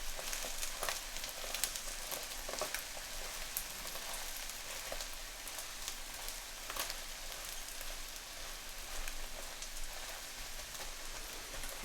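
An omelette for an Aloo Tikki burger fries at a Lahore street food stall, giving a steady, dense crackling sizzle that runs the whole time with no voices.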